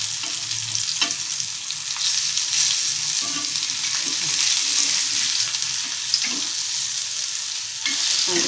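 Mandeli fish fry in a pan with a steady close sizzle, broken by a few soft knocks and scrapes as the pieces are turned over, and no voices.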